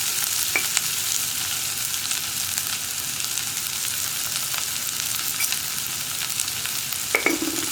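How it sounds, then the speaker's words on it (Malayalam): Onion and green chili sautéing with salt in a pan, a steady soft sizzle with occasional stirring scrapes and clicks, moderately close with no voices. "ഇനി ഇതിലേക്ക് ആവശ്യത്തിന് ഉപ്പും കൂടി ചേർത്ത് നന്നായിട്ട് വഴറ്റിയെടുക്കാം."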